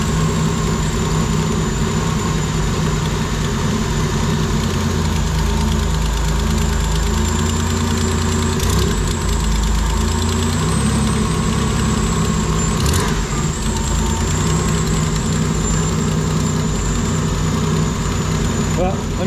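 A Nissan Pathfinder VG30 V6 engine idles loudly, steadily and close by after a head gasket replacement, with a rumbling, slightly uneven low throb and faint knocking throughout, with a vacuum leak and untuned timing.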